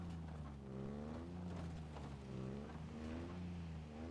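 Game vehicle driving in Halo Infinite, a steady engine drone whose pitch rises and falls as it revs, heard fairly close and alone without talk.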